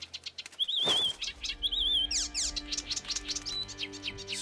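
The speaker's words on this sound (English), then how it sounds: "Stupid bird, shut up." In Assassin's Creed Chronicles China, a bird chirps and warbles repeatedly, with wing flaps and quick trilling calls over a busy background of game ambience, fairly faint and with no talking.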